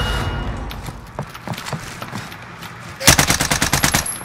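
Rapid automatic gunfire in a battle royale video game, scattered single shots at first, then a loud close burst of evenly spaced rounds toward the end, with faint background game noise.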